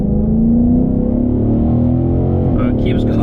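A Ford Mustang GT in track mode holds a steady, loud engine drone close by on a track as the throttle stays open, with a voice talking over it.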